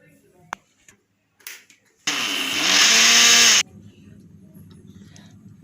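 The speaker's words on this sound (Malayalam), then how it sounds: "ആദ്യം തന്നെ ഞാൻ അതിനു വേണ്ടി ഈ പഞ്ചസാരയും ഏലക്കയും ഒന്ന് പൊടിച്ചെടുക്കുകയാണ്." A kitchen mixer grinder pulverises sugar and cardamom, a loud steady whirring buzz that starts abruptly, runs about a second and a half, rising slightly in intensity, then cuts off, preceded by a few light clicks and followed by quiet room noise.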